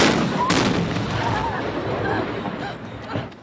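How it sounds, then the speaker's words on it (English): A truck explosion rumbles and echoes through canyons at close range, with a second softer blast and sharp pops following as the roar fades out. "Explosion, explosion."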